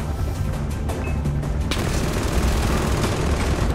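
Sustained automatic gunfire from a video game, a dense continuous rattle with heavy booming low end and scattered sharper cracks, loud and unbroken throughout with no talking.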